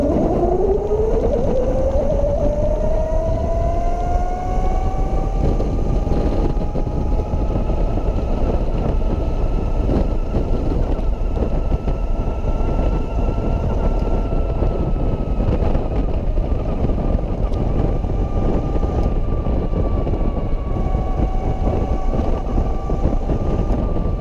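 A 5 kW Golden Motor electric trike powered by DeWalt batteries rides along, its motor whine rising as it accelerates and then holding a steady high-pitched hum over constant road and wind noise.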